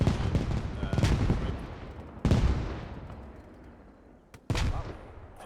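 Many gunshots ring out on a military patrol, loud cracking blasts in separate bursts with long echoing decays between them, and no talk over them.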